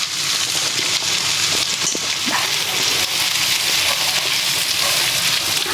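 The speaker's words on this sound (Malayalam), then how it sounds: "ഇവിടെ കടുക് പൊട്ടി വരുന്നുണ്ട് ഞാനിതിനെ ചെറുതായിട്ട് ഒന്ന് ഇളക്കി കൊടുക്കും" Mustard seeds splutter and pop in hot oil, a dense, steady crackling sizzle with scattered sharper pops.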